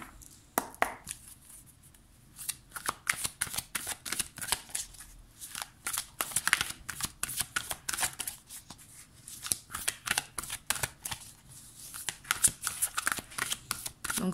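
Angel tarot cards shuffled by hand in a rapid run of crisp, papery riffles and slaps, close and fairly steady, with brief pauses between bursts and no talking.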